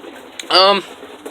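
Pigeon coo close by, one short throaty call rising out of quiet room background, set among tame pigeons kept at home.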